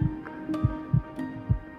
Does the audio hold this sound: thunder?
no